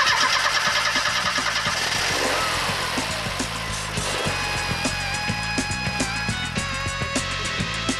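Engine of a Matra Murena sports car, a steady close mechanical drone with rhythmic ticking pulses, running loud and even throughout.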